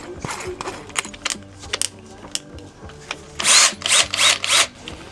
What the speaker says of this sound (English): Let's drill 4 holes